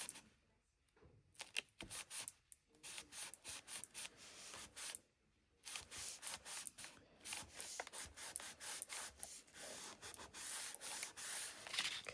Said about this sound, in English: I'm just going to fold that first rectangle on top of the second one. And I'm just going to burnish it.